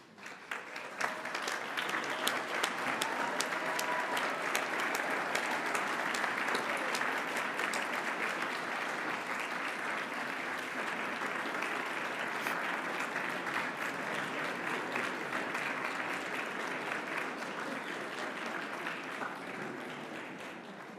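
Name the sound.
audience applause at a commencement ceremony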